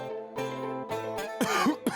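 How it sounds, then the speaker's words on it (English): A few harsh coughs close by, following a stretch of low tonal background sound, with a final short cough near the end. "why are you coughing like that? Do you have a sore throat?"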